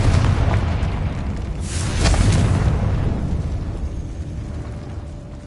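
A Confringo fire spell blasts in Hogwarts Legacy inside a decaying catacomb, a loud rumbling explosion that swells to a broad burst near the middle and then slowly fades into a low roar.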